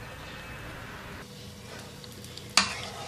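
An egg-dipped daal shami kebab fries in oil, a soft, steady sizzle with a brief stir and then a sharp utensil clink near the end.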